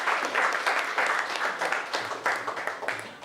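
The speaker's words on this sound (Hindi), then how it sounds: "आज के महफिल के सदर नवीन जोशी नवा साहब को आपकी समातों के हवाले जोरदार तालियों में इस्तकबाल करें" An audience at an Urdu-Hindi poetry gathering claps warmly to welcome a poet, a dense burst of applause in quick rhythmic waves that fades toward the end.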